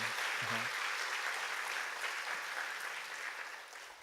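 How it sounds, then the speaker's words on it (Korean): A congregation at an autumn special dawn prayer service applauds, a dense, steady wash of clapping that fills the room and fades slightly toward the end. "우리 뜨거운 격려의 박수 보내주시기 바랍니다"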